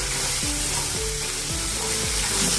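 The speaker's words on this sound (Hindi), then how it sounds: "आधा मिनट इसको भून लेंगे मसाले को" Coarsely ground masala paste frying in hot oil for a purslane leaf curry, with a loud, dense sizzle and rhythmic spatula strokes about every half second, close up and without voices.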